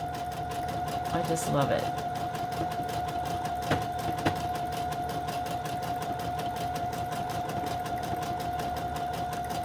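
A sewing machine stitches fabric and lace snippets down into a snippet roll, giving a steady, continuous mechanical whir throughout while someone talks over it.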